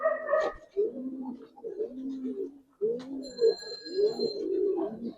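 Giribaz and Army pigeons coo in soft, repeated rolling phrases close by, with a few brief higher calls mixed in and no talk.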